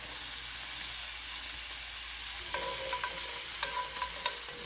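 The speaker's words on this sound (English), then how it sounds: "So we're going to add some garlic and onions." Garlic and onions fry in a pan with a constant close sizzle, joined by scraping clinks of a utensil stirring against the pan in the second half.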